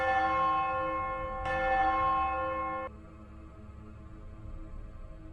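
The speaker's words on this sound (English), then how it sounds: "But sometimes, when I close my eyes, I hear them. The bells." A bell rings out with a sustained, resonant tone, struck again partway through, then cuts off leaving quiet background noise.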